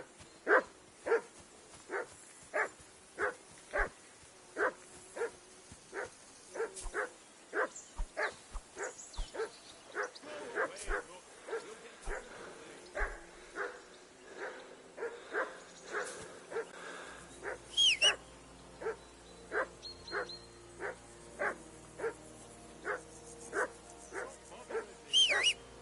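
Dog in the video game Kingdom Come Deliverance 2 barking in a long run of evenly spaced single woofs, moderately close, mixed with whimpers and yips, the rhythm loosening and a few overlapping calls near the end.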